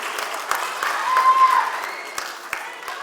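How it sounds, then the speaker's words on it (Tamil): Audience applause at a Tamil film celebration for the record-setting feature Pitha, moderately loud, with scattered claps over a steady crowd wash and some voices mixed in. "இயக்குனர் சுகனுக்கு நிச்சயமாக நம்ம எல்லாரும் ஒரு பலத்த கைத்தட்டலோட நம்ம பாராட்ட சொல்லணும்"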